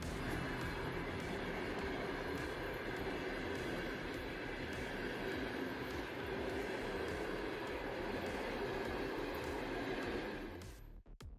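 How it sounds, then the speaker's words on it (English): A long freight train rolls steadily past on the rails across the Kazakh steppe, a loud, continuous rumble and wheel roar that holds for about ten seconds before tapering off at the end. "Kazakhstan's vast steppes are traversed by some of the longest trains in the world"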